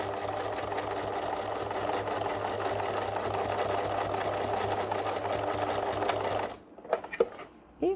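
A domestic sewing machine stitches fabric the full length of a seam while making a beginner's pencil pouch, a steady loud motor hum for most of the clip, then stopping and giving way to a few faint handling clicks.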